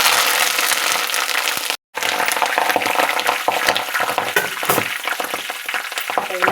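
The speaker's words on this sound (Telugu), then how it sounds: "ఆయిల్ అయితే ఇలా హీట్ ఎక్కిన తర్వాత కరివేపాకు" Curry leaves fry in hot oil being prepared for hair care, giving a loud, continuous sizzle and crackle that breaks off for an instant and then carries on.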